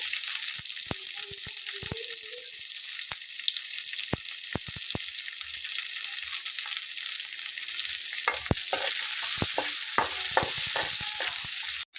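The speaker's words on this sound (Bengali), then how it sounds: "তারপরে আমি এখানে দিয়ে নেব পেঁয়াজ কুচি করে নেওয়া" Chopped onion frying in a hot pan, a loud, continuous sizzle with sharp scrapes and clicks of stirring that come faster and thicker toward the end.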